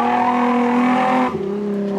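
Drift car engine revving hard and steady, loud and close with a strong harmonic whine, then briefly dropping off before picking back up.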